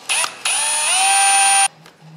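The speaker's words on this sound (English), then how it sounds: "this doesn't drill as much as it kind of grinds out" A high-pitched rotary drill grinds into the glass of an antique liquor decanter, whining in two bursts, the second longer and steady with a grinding edge, then stops.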